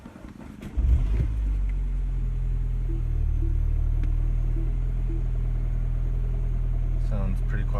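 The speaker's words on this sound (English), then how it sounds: "This will be the first time starting the car." A Mini Cooper S R56 fitted with a new John Cooper Works exhaust cranks and fires about a second in, then settles into a low, steady, rumbling idle close by.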